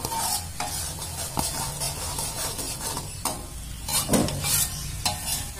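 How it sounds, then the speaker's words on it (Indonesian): Seasoning being stirred into boiling soup broth for tekwan, a fish ball soup: soft, steady bubbling and hissing from the pot, with occasional scrapes and clinks of the spoon against it, close and moderately quiet. "Jadi kita masukkan bumbunya di air kuah yang sudah mendidih ya."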